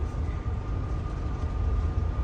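A train runs on the Hiwassee line in autumn, hauled by TVRM 5109 and GATX 2004. It gives a steady, close, low rumble with a faint sustained tone above it, and no voices.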